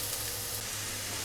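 Potatoes and peanuts fry in a pan for a Bengali chirer polao poha snack, giving a steady, close sizzle that runs unbroken and alone.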